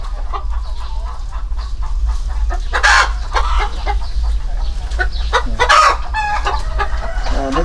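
Hens cluck steadily in an egg farm coop, with a couple of louder squawks standing out over a constant low hum.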